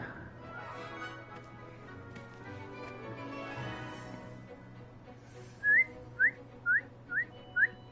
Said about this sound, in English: And if you hear my whistle while you're in flight, ground yourself at once.